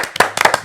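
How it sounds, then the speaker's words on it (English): A few sharp hand claps in quick succession, close and loud, an irregular cluster of about six snaps during a podcast. "Let's clap it up for that."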